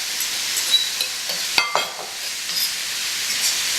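Tofu sizzles steadily in a hot Saladmaster 12-inch chef pan skillet, a close, continuous hiss broken by a few sharp clicks and scrapes as it is stirred, with no talking.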